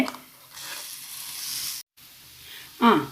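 Ground masala paste added to a hot pan, a broad hissing sizzle that swells and holds, cuts out briefly, then returns with a short voice near the end.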